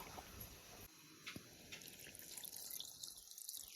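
Tamarind is rinsed in water, with faint splashing and dripping sounds and a thin trickle in the background, quiet and close, with no talking.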